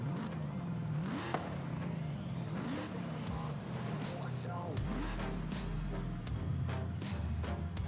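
A Chevrolet Camaro with a full Liberty Walk body kit in a racing video game, its engine revving up and down repeatedly in rising and falling sweeps, with someone talking intermittently over it.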